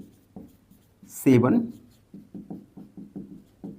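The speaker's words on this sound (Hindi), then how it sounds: "तो हम लिखेंगे" Pen or chalk writing numbers during a math lesson, giving a series of short, evenly spaced scratchy strokes close by, broken once by a brief spoken word.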